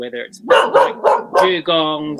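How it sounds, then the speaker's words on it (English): A pet dog named Fred barking nearby, a burst of five or six sharp, loud barks in quick uneven rhythm, interrupting someone talking over a call. "Sorry, that's my dog Fred."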